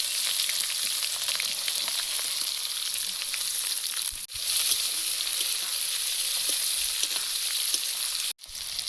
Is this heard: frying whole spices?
yes